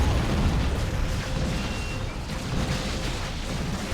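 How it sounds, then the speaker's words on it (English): Stick bombs burst in a battle in the strategy game Warhammer 40,000: Dawn of War 2, a dense rumbling wash of explosions and booming impacts rolling continuously with no voices. "More stick bombs."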